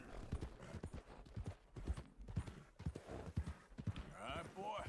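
Horse hooves clip-clop at a steady walking gait in a video game, close and fairly loud, with a few muffled voice sounds mixed in and a brief whinny-like flourish near the end.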